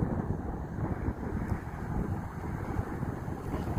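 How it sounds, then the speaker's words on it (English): Steady outdoor wind blowing across a microphone on a residential street, a continuous low rumbling buffet with gentle swells in loudness and no voices. "There's a little bit of wind, but it is so beautiful outside right now."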